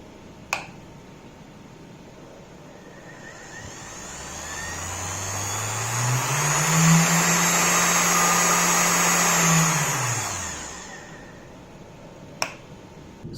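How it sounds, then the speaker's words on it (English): A bare 1000-watt vacuum cleaner motor spins up to a loud, steady high whine, holds for several seconds, then winds down, with a click at each end. "let's try this vacuum cleaner motor, 1000 watts"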